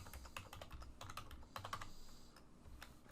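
Quick, light clicks of keys on a computer keyboard as numbers are typed into an Excel spreadsheet, in a brisk uneven run, faint and close, with no talking.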